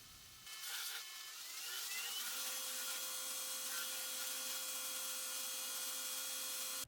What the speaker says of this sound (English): I'll also grind the front faces of the scales using the adjustable table angle.